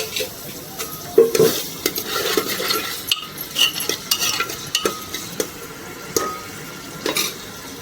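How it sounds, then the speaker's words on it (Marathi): Oil poured into a hot pan while egg khichdi is cooked, sizzling and frying steadily as a utensil stirs and clinks against the pan in irregular bursts, close and fairly loud. "चला आता आपण तेल टाकूया दोन तीन पाळ्या"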